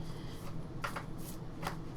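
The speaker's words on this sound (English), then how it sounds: "So the texture is nice on these for shuffling." Stranger Things tarot cards are shuffled by hand, giving soft papery riffles and brief slaps over a low room rumble.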